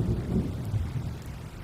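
A thunderstorm with rain in the video game Samurai Warriors 4, heard as a steady low rumble under a dense wash of falling rain, with no voices.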